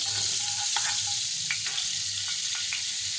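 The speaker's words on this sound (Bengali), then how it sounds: "বাটার দিয়ে কিন্তু আমি মাংসের পিসগুলোকে সব ফ্রাই করব" Chicken pieces frying in melted butter in a pan, a loud continuous hiss with scattered spatter crackles and a few soft stirring clinks, close up and with no talking.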